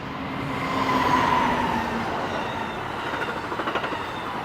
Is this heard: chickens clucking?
no